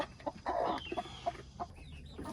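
Backyard chickens, including naked necks and a puffed-up broody hen, cluck in short scattered calls at close range over a soft outdoor background.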